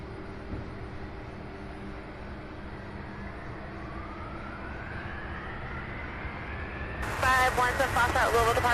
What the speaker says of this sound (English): So we'll see this MD-11 take off